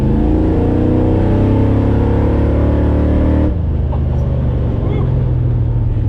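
A loud, close V8 engine of a 1969 Ford Mustang Fastback revs hard with a deep throaty roar, then drops back to a rumbling idle midway.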